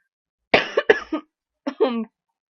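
A person getting over a cold coughs two or three times in quick succession, then gives a short throaty cough-like burst, close and clear with no talk.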